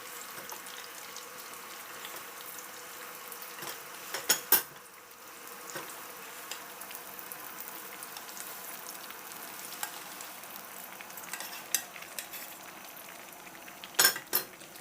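Kitchen cooking sounds during Nigerian party egusi soup preparation as egusi is transferred into a pot of boiling stock: a steady bubbling, sizzling bed with occasional sharp clinks of a utensil against the pot, moderately close, no talking.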